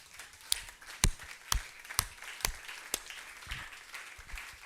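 A church congregation at a Sunday service applauding: sparse, uneven hand claps with several sharp, loud single claps spaced roughly half a second apart over quieter background clapping.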